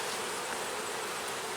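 Honey bees swarm thickly across a hive's frames, making a dense, continuous close-up drone with no pauses.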